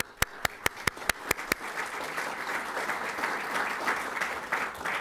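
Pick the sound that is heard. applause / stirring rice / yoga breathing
applause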